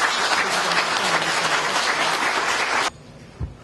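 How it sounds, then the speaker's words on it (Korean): A crowd at a book launch held at a press center in Gwanghwamun, Seoul applauds warmly and loudly, then the clapping cuts off abruptly, leaving near silence with a single soft thump. "여러분 뜨거운 박수로 환영해 주시기 바랍니다"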